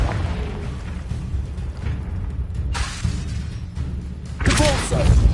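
A Confringo blasting spell erupts in a fantasy wizard-school combat scene, with several dull booming bursts and crackling impacts over continuous battle noise, the loudest blast landing near the end.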